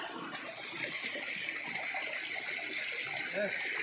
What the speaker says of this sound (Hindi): साउंड चेक करें, ये जो पानी के गिरने का है कितना खूबसूरत है